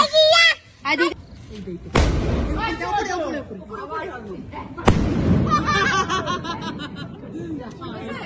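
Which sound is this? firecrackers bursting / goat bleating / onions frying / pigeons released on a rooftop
firecrackers bursting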